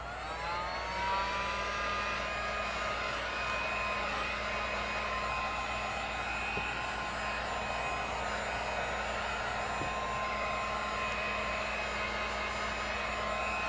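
A hair dryer runs steadily and continuously, drying ink on canvas, with a constant whirring hum and faint whine throughout and no talk.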